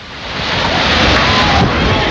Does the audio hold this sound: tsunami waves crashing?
yes